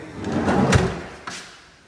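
Soft-closing slide-out pantry drawer in an accessible home kitchen, one smooth rolling slide followed by a gentle damped thud, close and clear with no talking.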